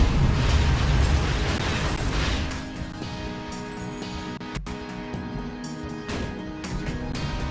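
Large guns in the video game Tower of Guns fire heavy ordnance, giving a dense, continuous roar of booming blasts that is loudest at the start and then settles into a steady rumble with one sharp crack midway.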